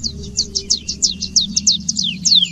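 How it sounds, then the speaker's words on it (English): A Speke's weaver gives loud, chattering calls: a rapid run of sharp, scratchy chirps in quick succession, close and clear over a faint low background murmur. "Speke's weaver feeds mainly on seeds, insects, and fruit, and is known for its loud, chattering calls."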